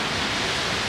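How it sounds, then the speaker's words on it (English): A steady, dense rush of falling water from a waterfall by the ocean, a constant broadband roar that fills the moment with no breaks or voices. "watching the waterfall"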